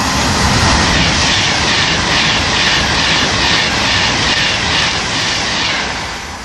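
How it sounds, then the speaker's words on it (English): A Virgin Trains Pendolino service to London Euston passes at speed through Acton Bridge, a loud, sustained rushing roar of wheels and air that stays steady before easing slightly at the end, with no voices. "Passing through now is a Virgin Trains pendling service to London Euston."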